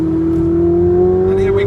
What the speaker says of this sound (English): I'm going to take it up slowly through the revs just to let you hear